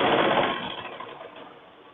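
A sewing machine stitching the side seam of a blouse gives off a close, steady whirring run that starts loud and gradually eases off.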